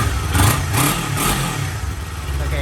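A Kawasaki Z400 with a Hindle exhaust gets three quick throttle blips that rise and fall over its idle, heard up close with a faint background murmur.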